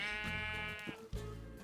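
Sheep in the video game Dungeon Maker giving a loud, clear bleat, followed by a shorter second bleat, close up and alone.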